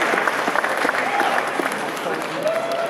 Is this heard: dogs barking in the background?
no